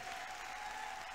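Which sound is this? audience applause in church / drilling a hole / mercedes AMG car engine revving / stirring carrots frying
audience applause in church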